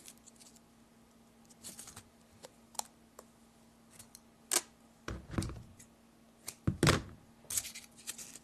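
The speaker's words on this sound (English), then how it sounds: "So let's tape up our fins here." Tape being pulled and pressed onto the fins of a small Inductrix hovercraft build, heard as sparse clicks, rips and soft thunks scattered irregularly over a faint steady hum, fairly close and quiet.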